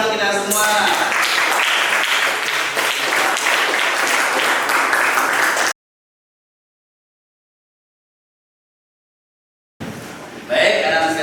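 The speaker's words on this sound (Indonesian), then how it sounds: "Oke, tepuk tangan untuk kita semua." A class applauds, a dense burst of clapping for several seconds before a sudden silence, then more sound returns briefly with some talking.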